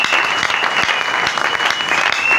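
A church congregation at a Sunday sermon claps together in loud, continuous applause that fills the whole short moment.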